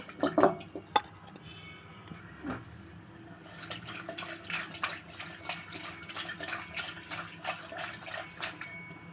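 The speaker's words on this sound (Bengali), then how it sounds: "আমি ধুয়ে নেই মাছ" Fish being washed in water for a Bengali curry: a few sharp splashes at the start, then a run of quick rhythmic sloshing and dripping that continues at a moderate, close level.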